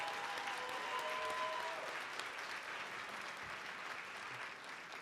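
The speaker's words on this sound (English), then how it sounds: "Can we please get a round of applause for them?" Sustained audience applause at a conference closing plenary, a dense, even roar of many hands clapping that fades only slightly across the stretch, with no speech on top.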